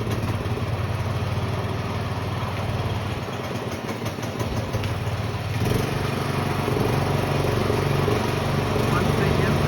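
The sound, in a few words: small engine running after repair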